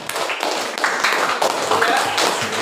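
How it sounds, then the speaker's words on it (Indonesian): Classroom students clap together for a classmate, a dense run of handclaps lasting nearly three seconds at steady, close volume. "Sekali lagi tepuk tangan untuk Irfan."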